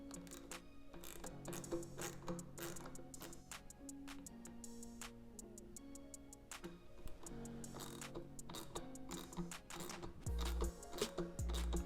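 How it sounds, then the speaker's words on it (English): T10 Torx bolts are tightened on a BMW F10 M5 intake, with rapid small ratcheting ticks and clicks repeating against a low steady hum, close and with no talking. "so now we'll just go ahead and tighten up all 4 of those bolts"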